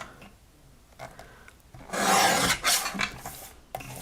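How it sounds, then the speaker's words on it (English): A paper trimmer blade slides across card stock with soft scrapes and then a longer, louder rasping pull as a red line is trimmed off, close up with no speech. "I'm going to go ahead and just trim off that red line all the way around."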